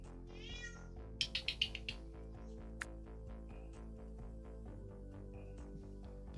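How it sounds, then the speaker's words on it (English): A house cat meowing at night, a quick series of loud, close cries near the start followed by quieter scattered calls, over a steady low hum of background music. "The cat was going nuts."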